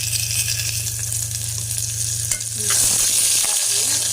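Garlic and onion sautéing in a pan with a strong continuous sizzle and occasional stirring scrapes, close and loud, under a steady low hum.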